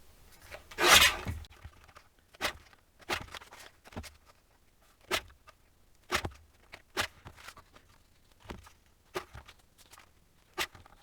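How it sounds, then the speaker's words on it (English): Paper being cut into 1-inch strips makes a series of short, dry rasping snips, about a dozen close, quiet strokes at a loose, uneven rhythm with near silence in between. "I'm going to cut 1 inch strips first and then cut it down."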